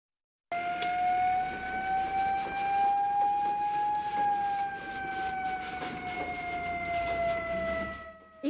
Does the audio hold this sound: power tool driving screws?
no